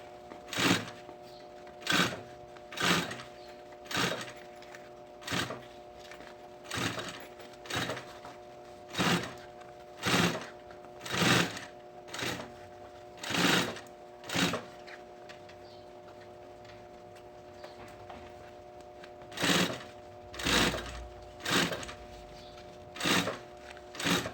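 A sewing machine applies ready-made 4 cm bias binding over the seam finish of a backpack with a panel, running in about twenty short, evenly spaced bursts with brief pauses between, fairly close and steady, with no talking.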